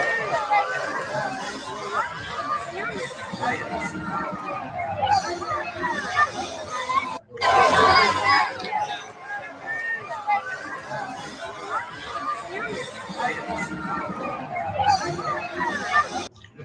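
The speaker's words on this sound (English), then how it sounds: "Well, it's a packed crowd, I see." A packed crowd at a basketball tournament chatters steadily in a dense hubbub of overlapping voices, with a brief dip and a louder swell partway through; scattered laughter rises from the babble.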